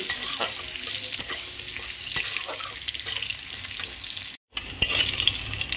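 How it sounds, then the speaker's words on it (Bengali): Cut potato fries in hot oil seasoned with black cumin, sizzling steadily and close while a utensil stirs it with occasional scraping taps, the sound cutting out briefly near the end. "দিয়ে একটু ভালো করে তেলে ভেজে নিচ্ছি"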